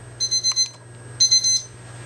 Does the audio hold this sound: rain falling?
no